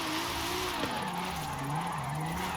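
In the Forza Horizon 5 video game, a lowered car slides while being counter-steered, its engine drone rising and falling steadily and a tire squeal running continuously throughout, with no talking.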